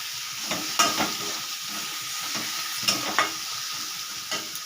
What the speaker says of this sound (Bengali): এবারে এর মধ্যে আমি কাঁকড়াগুলো দিয়ে দেব